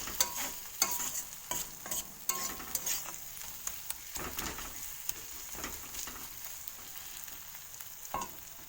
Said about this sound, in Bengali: ভালো করে আমি নাড়িয়ে চাড়িয়ে নেব।